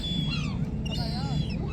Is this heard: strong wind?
no